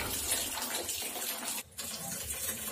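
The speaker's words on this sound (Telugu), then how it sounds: "ఈ వాల్ ఆన్ చేద్దాము" Water runs steadily from the valve of a home water filter after it is switched on, a close continuous splashing flow with a short dip partway through, no voices.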